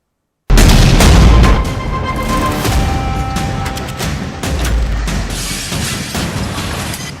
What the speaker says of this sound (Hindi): हर शहर पर बम बरसा रहे हैं, मिसाइलें दाग रहे हैं।